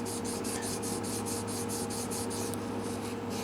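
Wet sanding of a guitar's finish with fine 1500 to 2000 grit sandpaper makes a steady, close rubbing rasp in quick, even back-and-forth strokes, with faint rhythmic swishes.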